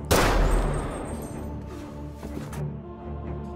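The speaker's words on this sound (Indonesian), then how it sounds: "Jahid pun berhasil menembak Mutter hingga dia tewas" A loud gunshot cracks out near the start, followed by a rumbling, echoing tail and scattered background noise.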